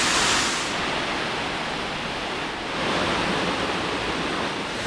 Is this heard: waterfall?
yes